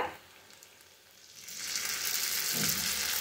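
Onions with ground masala paste frying in a pan for a tomato-free kulambu gravy, a soft sizzle that swells into a steady, loud crackling hiss partway through, with no voices.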